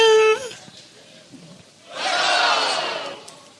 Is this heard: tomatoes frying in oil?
no